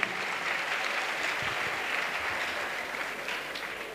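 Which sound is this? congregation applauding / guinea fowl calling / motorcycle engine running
congregation applauding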